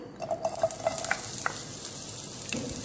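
Sliced onion and green chillies fry in a little oil in a pan after mustard seeds have popped, making a close sizzle with a run of quick stirring clicks and scrapes near the start and a clatter near the end, without speech.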